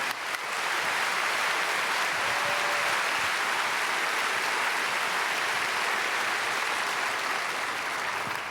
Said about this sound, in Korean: 다시 한번 우리 두 분과 앞서가신 선조들에게 감사의 박수로 영광 돌리겠습니다.